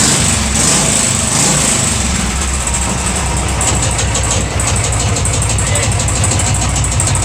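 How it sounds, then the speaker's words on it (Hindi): A Royal Enfield Classic 350 motorcycle engine, back together after a full engine fitting for a sound problem, runs loud and close with a steady rapid thumping idle that holds throughout without a break. "तो यहाँ पर दोस्तों साउंड स्टार्ट करेंगे गाड़ी को इस तरह से।"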